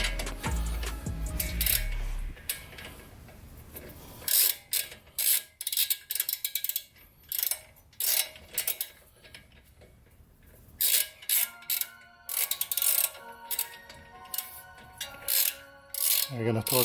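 Ratchet wrench tightening 17 mm bolts on the brakes of a 2009 Toyota Camry, heard as repeated bursts of quick close clicking separated by short pauses.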